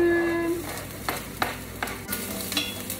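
Garlic and onion sizzle in hot olive oil in a pan, a steady crackling frying hiss with a few sharp stirring scrapes and clinks spaced through the mix.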